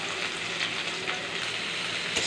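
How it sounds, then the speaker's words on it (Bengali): Garlic, green chili and onion fry in hot oil, a continuous close crackling sizzle with light spattering pops throughout and no voices. "ভালো করে লাল লাল করে ভেজে নেব।"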